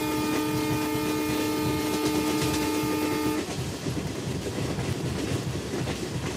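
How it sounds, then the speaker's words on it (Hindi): A freight train in the Trainz Simulator game rolls past steadily with loud, continuous rail clatter, a sustained horn-like tone sounding through the first half before cutting off, then rumbling wheels alone. "इधर आप लोग देख सकते हैं ENG लोगों के साथ एक फ्रेट ट्रेन फिर से क्रॉस"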